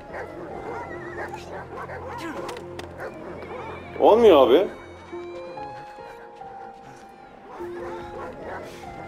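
A dog barks in a short burst of several sharp yelps within the WWI video game Valiant Hearts: The Great War, rising loud above game music while someone talks in Turkish before and after.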